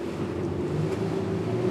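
A Quarken 35 Cabin motor boat accelerates at sea on full throttle. Its engines give a steady, fairly quiet drone mixed with wind buffeting and water rush.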